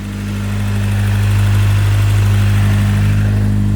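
A freshly rebuilt SR20 engine in a Nissan 240SX idles loud and close after a slight rise in the first second, a steady low rumble with a faint ticking from slightly noisy lifters.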